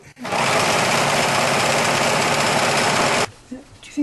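A sewing machine stitches a jacket shoulder seam, a loud, steady mechanical whir running close up for about three seconds before stopping abruptly, followed by faint handling noises.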